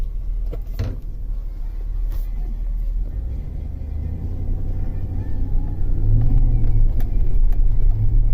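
A 2004 Chevrolet Suburban 4x4 with the 6.0L V8 engine restarts and settles into a steady, loud low rumble close by. Brief transient clicks sound near the start, and the idle swells slightly louder toward the end.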